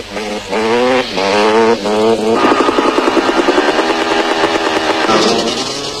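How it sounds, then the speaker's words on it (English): KTM off-road motorcycles launch at the start of the 1991 Toyota 1000 Off Road Race in South Africa, loud engines revving hard and climbing through gears together, a dense roar close by. "Kevin Fisher on the Rock Oil KTM, who drew first position, led away the Bike Brigade"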